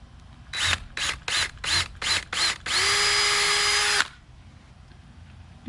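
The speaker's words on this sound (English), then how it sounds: "Then I'm going to pre-drill that hole." A power drill pre-drills a screw hole for a storm door hinge on a greenhouse frame, first in six short bursts, then in one steady run of about a second and a half, close and loud.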